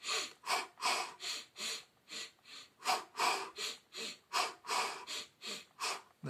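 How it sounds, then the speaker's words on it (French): A runner breathes hard and steadily in rhythm with running strides. Each breath is a close, clear puff, and they come about every half second, about a dozen in a row with no talking. "Basez votre respiration sur votre foulée."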